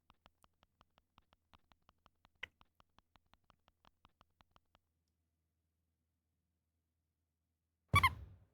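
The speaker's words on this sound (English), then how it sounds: "Oh, the squeaky sound effect too." Squeaky sound effect in a video game: a quick, even train of faint clicking squeaks for about five seconds, one sharper squeak in the middle, then silence before a short loud burst at the end.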